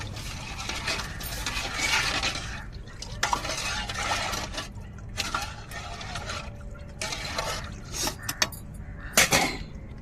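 Coconut milk is poured into a pot of rasam and stirred, with a ladle scraping and clinking against the vessel in bursts and pauses and a soft bubbling underneath, close and moderately quiet.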